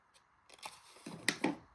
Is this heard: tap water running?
no